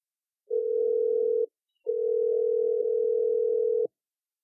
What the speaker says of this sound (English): so let's get Cherie on the phone